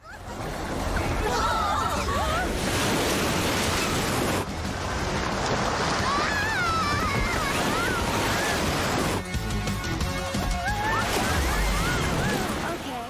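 In a cartoon, water gushes from a tap left open as a loud, continuous roaring torrent like crashing surf, with excited voices and sound effects over it.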